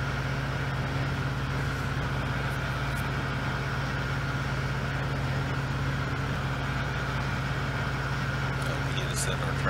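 A Ford 5000 tractor engine in a farming video game runs at a steady drone while driving, loud and continuous with a low hum and no breaks.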